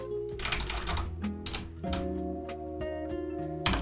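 Clattering keypresses on a loud mechanical keyboard arrive in uneven clusters and single clicks, sitting close and clear over a continuous musical backdrop with no voices.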